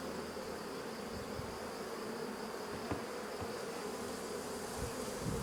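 Honey bees buzzing at an open hive, a dense, steady, faint hum of many insects with a few soft knocks and no talking.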